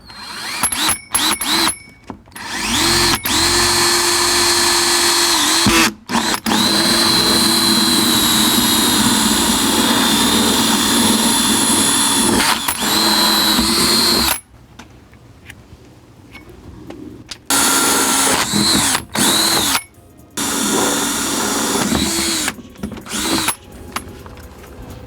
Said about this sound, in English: the same drill bit's going to work on all 3